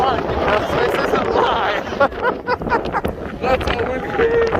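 Strong wind in Las Vegas buffets the microphone with a continuous broadband roar, while a person talks loudly over it throughout.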